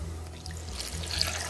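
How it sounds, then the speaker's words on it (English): Low-fat milk being poured into a blender in a kitchen, a short soft steady liquid stream with light trickling, no talking. "I'm going to pour in some low-fat milk."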